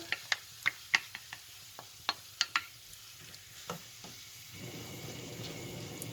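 Tomato goes into a Moroccan tagine of vegetables and minced-meat meatballs with caramelized bits, and a spoon clicks and taps sharply against the pot before a soft sizzle rises near the end.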